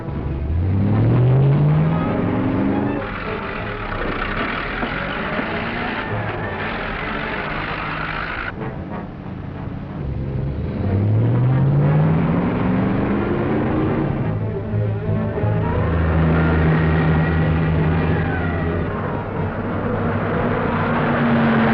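A souped-up gang car in a 1940s serial speeds off, its engine revving hard with rising pitch sweeps as it accelerates and shifts, loud and continuous under a steady rumble.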